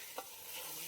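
A spoon stirs chicken cooking in a pot, a brief scrape over a steady sizzling frying hiss, quiet and close.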